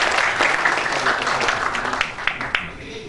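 An audience applauds Glenn Cowan at the close of his talk at a national research conference in Bangladesh, giving steady, dense clapping throughout with a few sharper individual claps standing out near the end.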